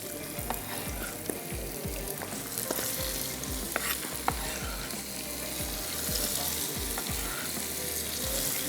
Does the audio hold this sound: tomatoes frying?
yes